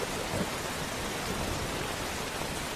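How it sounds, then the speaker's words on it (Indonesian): Heavy rain pours down in a dense, loud, continuous roar of broadband hiss, unbroken from start to finish with a low rumble beneath and no voices. "Dengan hujan yang begitu deras,"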